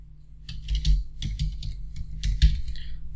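Keys clack on a computer keyboard in quick, irregular bursts of close, crisp taps with brief pauses between runs, with no talking.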